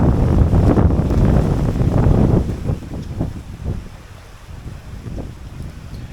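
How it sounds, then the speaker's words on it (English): Strong wind gusts buffeting banana plants on support racks outdoors, a loud rushing roar that swells and then eases into lighter gusting. "when you got a rack and you get a gust going, you can see it shake"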